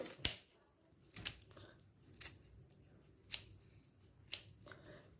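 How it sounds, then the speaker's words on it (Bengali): Scissors snip fenugreek leaves into small pieces for paratha, giving five crisp, evenly spaced cuts about a second apart, close and fairly quiet, with no one talking. "মেথি শাকটাকে আমি কাঁচির সাহায্যে ছোট ছোট করে কেটে নিচ্ছি অর্থাৎ কুচিয়ে নিচ্ছি"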